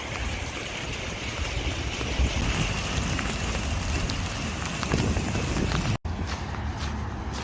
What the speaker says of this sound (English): having to do the last 3 or 4 miles in the rain.